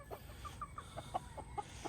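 Chickens cluck softly as they walk around in the open near a tiny house in the Philippines, a faint scatter of short repeated clucks at a distance.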